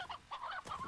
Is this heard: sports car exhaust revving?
no